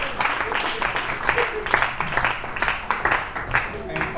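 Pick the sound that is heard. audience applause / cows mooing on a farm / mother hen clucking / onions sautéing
audience applause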